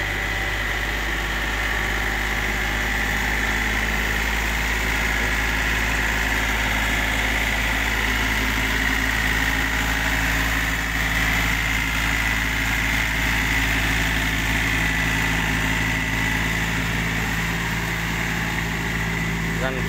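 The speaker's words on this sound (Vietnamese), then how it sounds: "Dàn phay Kobashi 2m45 lắp cho con máy răng Mai FX 393 đang test." A tractor, an FX 393 fitted with a Kobashi 2.45 m rotary tiller, runs close by for wet paddy tilling, its engine throbbing with a deep, steady rumble and a continuous mechanical whine.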